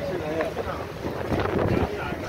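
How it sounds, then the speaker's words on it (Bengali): Cold wind blowing outdoors on a sunny winter day in Taiwan, a steady rushing buffet of air hitting the microphone with gusty swells, heard under a voice speaking close by. "এত ঠান্ডা ঠান্ডা হাওয়া দিচ্ছে, শীত করছে।"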